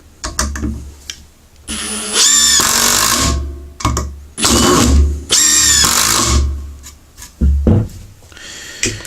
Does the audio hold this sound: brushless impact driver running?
yes